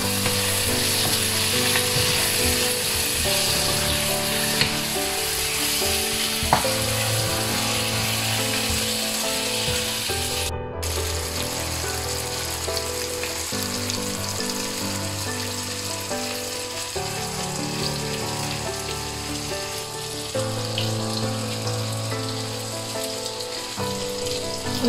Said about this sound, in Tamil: மாங்காயை போட்டு நல்லா கிளறி விடணும்.